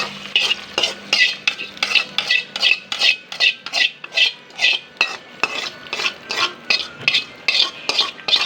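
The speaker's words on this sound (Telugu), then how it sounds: "ఇక పోపు కూడా వేసేసుకోవాలి" A spoon scrapes rhythmically around a pan of spice tempering frying for a festival offering, brisk regular strokes about twice a second over a faint sizzle, close and clear.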